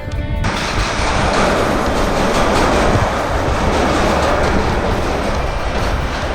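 A train rumbles across an old double-decker rail bridge, loud and close, a continuous heavy roar with metallic rolling clatter that stays steady throughout.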